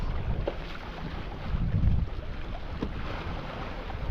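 Sailboat moving through calm water in about 8 knots of wind, a soft continuous wash of water and breeze along the hull with a brief louder swell midway and faint creaks.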